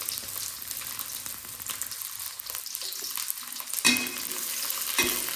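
Chili and shallots stir-fried in a pan while cooking a bottle gourd vegetable dish, giving a steady close sizzle with continuous stirring scrapes and a couple of sharper clatters near the end.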